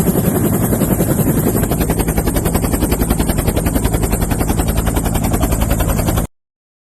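Helicopter rotor thumping loud and steady at close range, a continuous rapid chop over a dense roar of engine noise lasting about six seconds before cutting off abruptly, with no voices.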